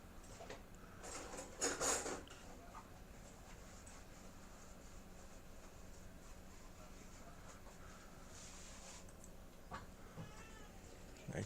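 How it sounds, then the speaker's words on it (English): A cat gives a few faint, scattered meows indoors, with soft clatter and low room noise around them. "My cat's yelling at me."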